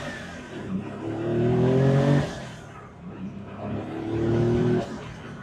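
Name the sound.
modified twin turbo Porsche 911 based car driving off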